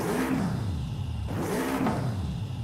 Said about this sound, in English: That's like super high revving.